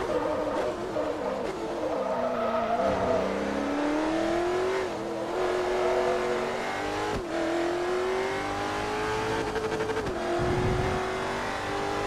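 Race car engine in the Forza Motorsport 3 video game, a loud sustained whine that rises and falls through gear shifts, with brief tire squeals and skidding along the way.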